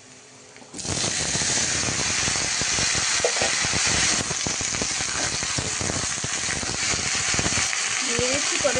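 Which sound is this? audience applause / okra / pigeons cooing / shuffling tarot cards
okra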